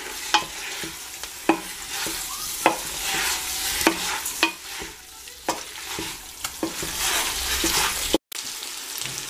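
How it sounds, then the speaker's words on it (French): Drained tripe sautéing with sauce in a pan for Tunisian akoud, a steady close sizzle punctuated by repeated utensil scrapes and clinks of stirring. "je vais rajouter les tripes égouttées et les faire revenir également avec notre sauce"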